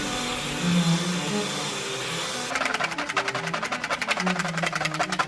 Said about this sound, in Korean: 핸드믹서로 6분가량 거품을 냈습니다.